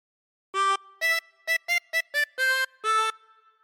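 A harmonica plays a phrase of We Wish You a Merry Christmas in eight clean notes, some short and some held, alternating blown and drawn reeds, close and alone with no talking.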